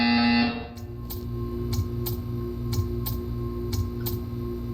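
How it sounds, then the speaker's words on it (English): In the video game Portal 2, a brief tone gives way to a repeating electronic buzzer that pulses in short, evenly spaced bursts over a low droning background hum. "You will hear a buzzer."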